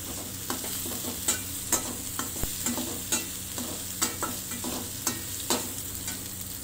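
Onions and curry leaves sautéing in a pan, a steady low sizzle broken by regular scraping strokes of a spoon stirring through the mix, close and moderately quiet with no talk.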